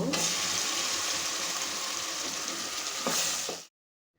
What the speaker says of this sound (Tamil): அந்த மசாலாவை இதில் கொட்டிக்குவோம்.